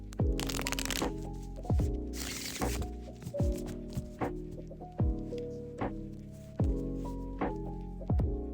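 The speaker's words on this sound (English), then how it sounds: "I will be shuffling your cards" Tarot cards shuffled by hand during a love reading, a run of crisp riffling bursts and soft taps that repeat every second or so over a steady background tone, close and fairly loud with no talking.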